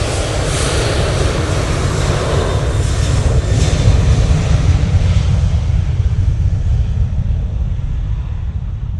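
A Ryanair jet rolls down the runway at Manchester Airport on takeoff, a loud, broad engine roar that holds steady and then slowly fades away as it moves off.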